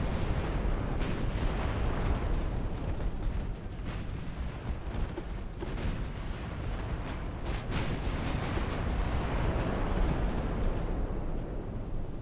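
Warship guns fire in the Ultimate Admiral Dreadnoughts naval game during a 1900 British campaign battle: dense, rolling booms and blasts overlap continuously, loud and heavy, with sharper cracks breaking through the steady barrage.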